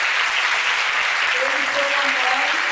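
A lecture-hall audience claps continuously in a dense, even wash of applause, with a faint voice audible underneath.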